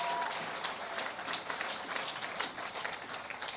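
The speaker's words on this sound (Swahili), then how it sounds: "Applaudissons Raphaël, une ovation." An audience gives an ovation at an evangelistic gathering in Goma, DRC, a brief burst of lively, steady clapping from a sizable crowd.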